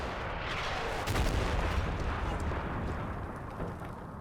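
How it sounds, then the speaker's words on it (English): Light gun artillery fire in the Combat Mission Shock Force 2 video game, a dull heavy rumble of distant shelling that thickens into a sustained roar, with muffled blasts merging together. "so I duly oblige with the light guns"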